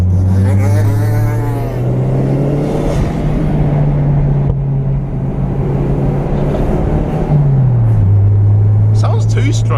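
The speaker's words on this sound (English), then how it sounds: "It's a little fucking moped thing, isn't it?" A small two-stroke moped drones past with a steady buzzing engine note that holds, then drops in pitch as it moves away, while someone talks over it.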